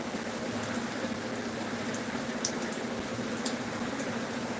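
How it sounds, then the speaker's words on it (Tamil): Steady rain falling, a dense even patter with occasional louder drips, no voices. "மழை வந்துருச்சு பாருங்க."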